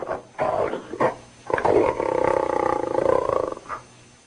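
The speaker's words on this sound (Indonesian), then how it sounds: "Dia dengar suara harimau saja." A tiger gives a deep, rasping roar, growling in bursts that swell into one long sustained roar before tapering off, close and loud with no other sounds around it.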